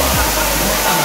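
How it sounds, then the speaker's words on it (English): A waterfall at Tukad Cepung in Bali roars as loud, dense, steady rushing water that fills the whole short moment without a break. "Look at that waterfall."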